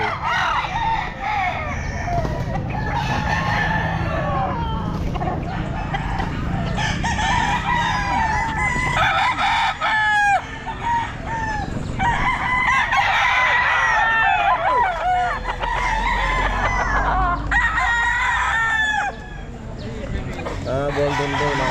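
Golden Boy stag roosters crow again and again amid clucking fowl in a busy pet market, several calls overlapping near and far, with voices talking underneath.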